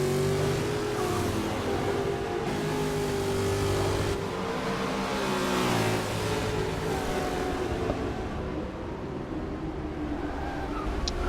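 Historic Trans Am race cars in a simulated race at Bathurst roar continuously at close range, several engines droning together with rising and falling pitch as a pack runs in a tight line.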